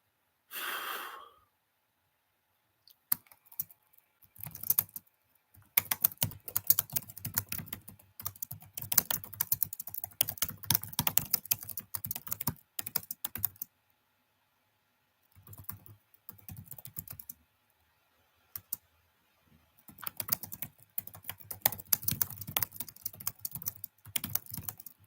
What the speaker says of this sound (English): I know it's that typing sound a little.